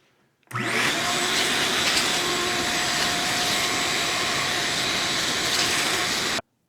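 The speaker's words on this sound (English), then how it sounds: "I'm gonna go ahead and shop vac that out just to make sure we're not sucking those through the turbo" A shop vac runs steadily for about six seconds, a loud continuous whooshing roar with no talk, as it sucks debris out of a car's turbo air box during an intake installation.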